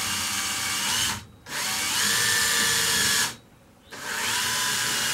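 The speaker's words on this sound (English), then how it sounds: "now I'm just going to kind of drill this out just a little bit" Power drill boring a small hole in a camphor wood hollow form on a woodturning lathe, a steady close whine in two bursts separated by short pauses, with no talking.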